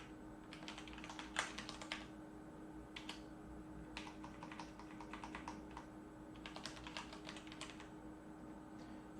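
Keys clatter on a computer keyboard while text is entered in an Excel spreadsheet, quick bursts of clicks with short pauses between them, close and moderately quiet, with no talking.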